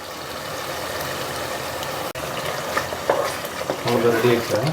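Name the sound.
stirring tomato thokku frying in oil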